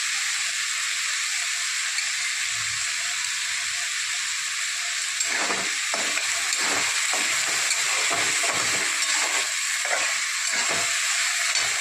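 Potato and green chili frying in oil for sabudana khichdi give a steady, loud sizzling hiss throughout, with soft stirring scrapes joining in partway through.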